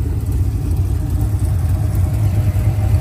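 A cammed Chevrolet Camaro SS 1LE running on E85 rumbles at idle, a loud, deep, choppy engine burble that stays steady and close for a few seconds with no speech.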